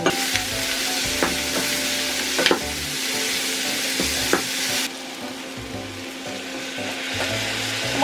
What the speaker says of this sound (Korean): 이제 얘네 들어가면서 그냥 버터도 같이 넣을게요.